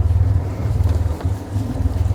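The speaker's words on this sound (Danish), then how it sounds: "Altså motoren sejler frem lige nu?" A moored sailboat's engine runs ahead in gear, giving a steady low throbbing chug with a regular pulse, close and fairly loud, with some wind buffeting the microphone.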